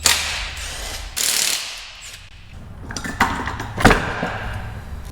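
A ratchet wrench loosening the bolts that hold the transmission to a HEMI engine in a 2nd-gen Dodge RAM 1500 pickup, with several short bursts of rapid clicking close by, separated by brief pauses and clanks.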